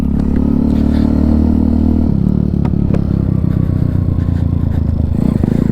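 Honda C50 motorcycle fitted with a swapped engine, ridden with a loud, steady engine drone and rumble throughout, pitch shifting slightly as it pulls along, with road clatter and no talk.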